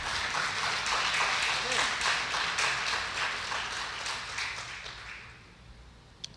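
Church congregation at a Sunday service applauding loudly: sustained dense clapping from a large crowd that gradually fades toward the end, with a faint voice briefly underneath.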